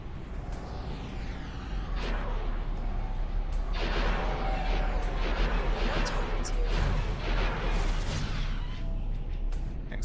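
Turret fire in the Star Wars Interworlds space game, repeated blasts and bursts scattered across a steady droning background, fairly loud and continuous over several seconds.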